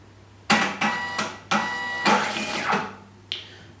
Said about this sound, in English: This printer model, the S4M, will also recalibrate when it's rebooted.